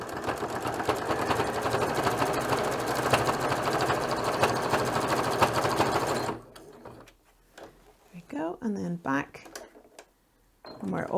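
A sewing machine runs steadily for about six seconds, stitching a homemade reusable scrubbing pad, then stops; a few short mechanical bursts follow, and a person talks over the quieter second half.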